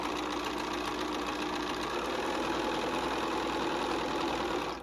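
A sewing machine runs steadily, stitching around the edge of a fabric bunny treat bag with a constant, even mechanical whir that holds for nearly five seconds, close and moderately quiet.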